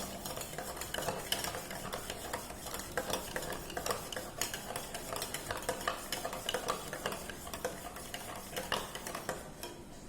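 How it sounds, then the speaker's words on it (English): A spoon scrapes and clinks steadily around a bowl as onion, salt and water are stirred, continuous close-up rhythmic scraping with no voices. "And then we will mix it well."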